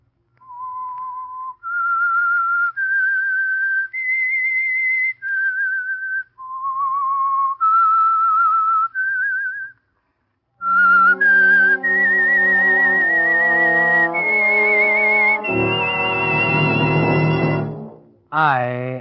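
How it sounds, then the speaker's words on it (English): A lone whistler carries a slow, eerie melody in sustained clear notes, followed by an orchestra picking up the theme and swelling to a loud close, with a voice at the very end. "That whistle is your signal for the Signal Oil Program"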